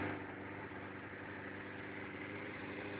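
A Suzuki Gixxer 750cc sport motorcycle engine idling, a steady low rumbling drone with an even mechanical buzz, continuous and close without variation.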